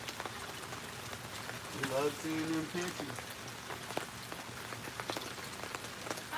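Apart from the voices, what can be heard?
rain falling outside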